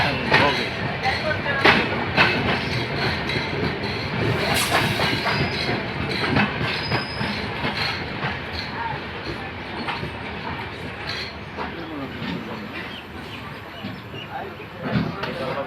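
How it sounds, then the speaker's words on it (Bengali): A train running on rails at the end of a long overnight journey in Bangladesh, with rhythmic clickety-clack, occasional wheel squeals and a steady rolling rumble; people talk nearby over the noise. "ট্রেন"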